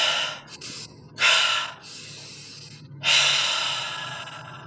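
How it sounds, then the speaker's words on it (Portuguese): Deep, deliberate breaths from a person doing a conscious breathing exercise, two loud airy rushes of breath separated by quieter breathing, close and clear with no talking. "Fez a respiração consciente 3 vezes"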